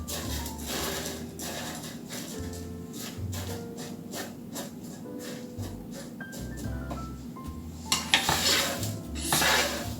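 Dried goyom (date plum) tree leaves tossed in a hot pan for tea rattle and clatter dryly against the metal, a close, busy scratching with sharper knocks toward the end.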